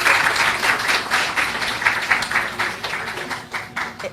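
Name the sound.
audience applause welcoming speaker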